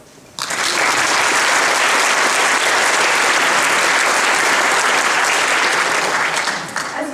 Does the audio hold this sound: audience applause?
yes